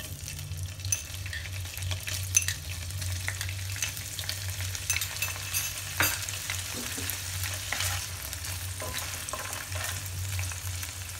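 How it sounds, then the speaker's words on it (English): Cubes of paneer (cottage cheese) fry in heated oil and ghee, producing a steady, dense sizzle that runs the whole time with light crackles and no speech. "So we are going to fry the"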